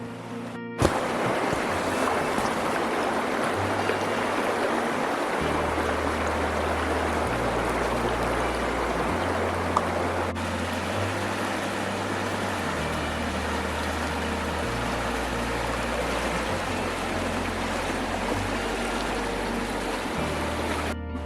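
Steady rushing river water flows continuously with a broad, constant roar and low rumbling undertones, close by and fairly loud throughout, near a ford on a mountain walking track in winter.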